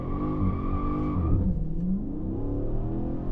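A Dodge Scat Pack launches hard with its tires spinning, the engine roaring steady and loud from inside the car while the rising pitch dips and swells as the wheels break loose.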